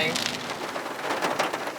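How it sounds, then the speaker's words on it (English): Heavy rain pours at a campground in the Great Smoky Mountains, a dense, continuous hiss and patter close by. No distinct thunder stands out in the brief stretch. "But it was pouring the rain."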